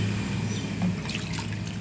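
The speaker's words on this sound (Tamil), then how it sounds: "இப்போ பாருங்கள் நார்மல் தண்ணியில் நம்ம நல்லா வந்து வாஷ் பண்ணிக்கலாம்" Water running and splashing steadily as a metal pooja vessel is rinsed in normal water, a continuous close trickle with faint clinks.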